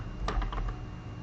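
A short burst of typing on a computer keyboard, a few quick soft clicks heard close over a low background hum.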